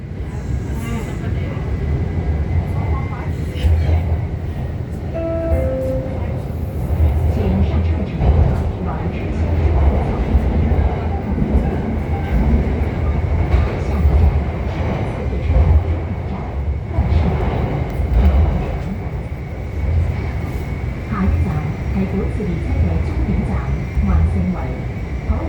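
Guangzhou Metro Line 8 train running toward Wanshengwei terminus, a steady low rumble of wheels and carriage with rattles and whine throughout, loud and continuous, with an onboard announcement voice heard briefly.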